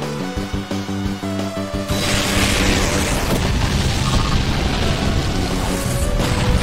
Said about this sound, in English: Annihilated by explosion! A huge amount of damage!